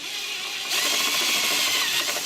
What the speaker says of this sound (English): So I'm just using the step drill.